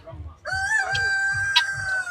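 A rooster of a red-fleshed, self-hatching breed kept enclosed gives a single loud, close crow with a long sustained note, over a soft repeating background thump.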